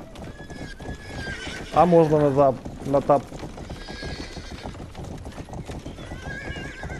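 Horse hooves clip-clopping and a loud whinny as a horse pulls a cart in the video game Rustler, the neighs bursting out midway over steady hoof beats while someone talks throughout.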